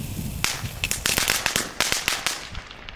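Rapid crackling bursts of Lidl consumer firecrackers popping in an irregular flurry, sharp and fairly close, with no voices.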